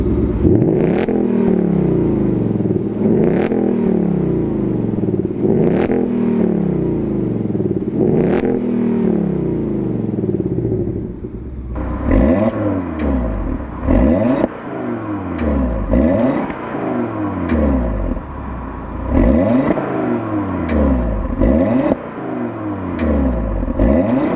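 Two sports cars, a Ford Mustang Mach 1 and an Audi TT RS, rev their engines in a row of repeated throttle blips. The loud, close revs rise and fall, the first car's deeper and the second's sharper and busier. There is no talking.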